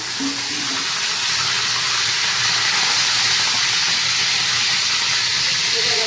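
Cumin seeds and curry leaves hit hot oil in a pan over medium flame, setting off a loud, continuous hissing sizzle that swells and holds steadily, with a faint voice briefly underneath.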